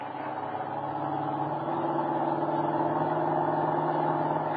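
Car engine roaring steadily and building slightly in a radio drama chase scene, a continuous loud mid-range drone with no talk over it.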